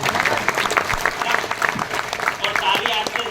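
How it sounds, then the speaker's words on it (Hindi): A seminar audience in Ahmedabad claps loudly and continuously, a dense, close round of applause with voices mixed in. "इनके लिए ताली, उनके लिए ताली है?"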